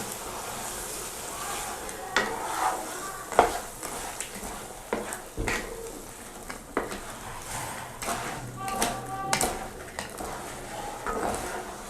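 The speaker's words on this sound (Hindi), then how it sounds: "इस तरीके से आपने सूजी को ऐड करते जाना है और चम्मच जो है वो मारते रहना है।" A spoon stirs semolina halwa in a pan, scraping and clinking against the metal with a steady, continuous rhythm over a soft sizzle, with a few sharper knocks throughout.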